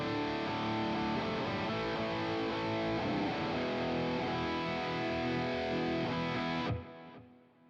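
Heavily distorted, high-gain electric guitar chords from a Boss GX10 amp modeler ring out thickly and continuously, then cut off abruptly near the end, leaving a brief fading tail.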